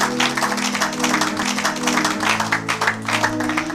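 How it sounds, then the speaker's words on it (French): A church congregation claps and applauds for several seconds, a dense continuous patter of many hands over a low sustained musical backing. "Acclamez pour la gloire de notre Dieu, de notre Seigneur."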